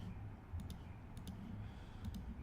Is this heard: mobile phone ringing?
no